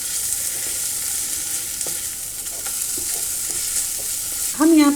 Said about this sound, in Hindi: इसको भी इसी के साथ भून लेना है